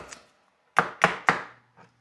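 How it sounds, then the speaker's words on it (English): A knife cuts through apples on a cutting board: three quick, firm chops in a row followed by a softer fourth, close and crisp with silence between. "Cut those apples up."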